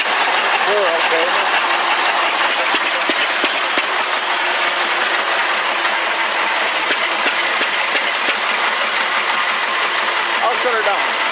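Old engine fitted with a drip oiler on top running steadily, a continuous mechanical chugging drone with faint clatter, close and loud throughout, with a voice speaking over it.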